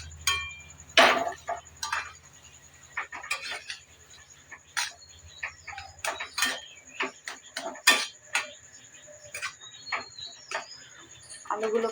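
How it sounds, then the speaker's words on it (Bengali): A spoon clinks and scrapes against a pan while mashing and stirring a vegetarian potato curry with turmeric, giving irregular light taps and scrapes over a steady faint hiss of cooking. "ভালো করে মিশিয়ে নেব।"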